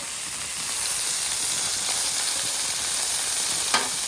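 Garlic butter and chicken bites sizzle steadily on a sloped Blackstone griddle, a continuous close hiss with one brief scrape near the end.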